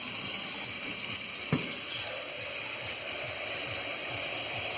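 Water pours steadily in a soft continuous stream, close by, with a single faint clink partway through.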